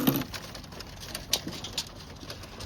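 Racing pigeons in a loft give soft, low cooing calls with a few brief fluttery bursts, fairly close, over quiet background.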